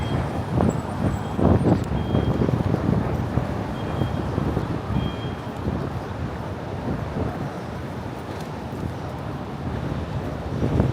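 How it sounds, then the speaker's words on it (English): Steady gusting wind buffets the microphone with a low, continuous rumble, rising and falling slightly over the whole stretch, on a street in Manhattan, with no talking. "Man, it is really windy."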